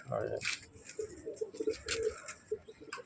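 Madras and Malbai pigeons cooing in a loft, soft repeated low coos and a few chirps up close, with people talking over them.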